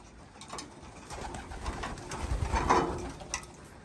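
Racing pigeons coo softly nearby, a few low rolling calls swelling and fading against faint background noise.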